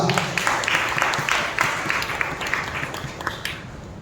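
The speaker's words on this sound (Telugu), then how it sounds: "చప్పట్లు కొట్టండి బిగ్గరగా." A church congregation claps loudly together, producing a dense, steady wash of hand claps that carries through the whole stretch without a voice standing out.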